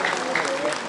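Audience applause at a children's folk dance ensemble's annual concert, steady dense clapping from a crowd filling the whole moment, with faint voices mixed in.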